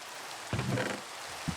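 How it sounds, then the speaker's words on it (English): Minecraft rain falls as a steady, even hiss across the whole moment, with a couple of brief low thumps rising above it. "And it's raining."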